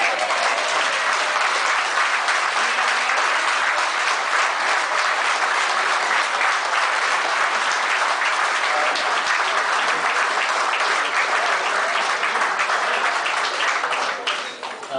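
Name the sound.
warm round of applause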